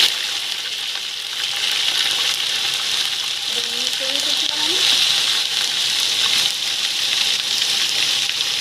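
Marinated meat sizzles and fries steadily in a hot pan while chicken fry is being made, a continuous broadband hiss holding loud and close throughout.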